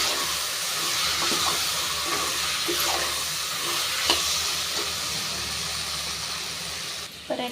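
A handful of fresh mint is stirred into a sizzling pan for a samba rava biryani, with steady frying hiss and rhythmic scraping of a spatula against the pan, ending in a few clanks.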